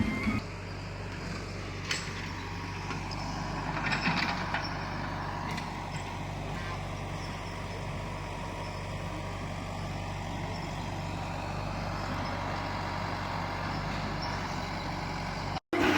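Heavy earth-moving vehicle working at a demolished house site, its engine rumbling steadily and loudly throughout as it scoops and loads soil, with a few sharp clanks and a brief hiss of air brakes near the start.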